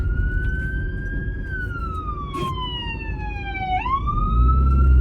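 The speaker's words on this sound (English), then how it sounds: "This ambulance coming down, bear with." Ambulance siren passing by on a street, a loud wailing tone that sweeps down and then jumps back up as the vehicle goes past, with traffic rumble underneath and no talk.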